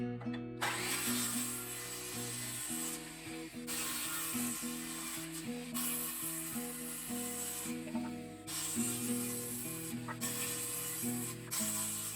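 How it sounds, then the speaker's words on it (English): A power saw with a new blade pushed slowly through pine boards while building shed trusses, a continuous loud whine and rasp that dips briefly at intervals as each cut is eased through. "I have to push the saw real slow and give it time to cut"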